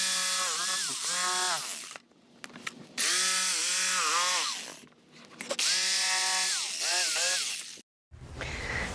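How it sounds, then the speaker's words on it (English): A jigsaw cuts a hole through an LVT floor plank in a bathroom, sounding in three loud buzzing bursts with rising and falling whine as the blade loads, separated by brief pauses. "we'll use the jigsaw to just make the hole"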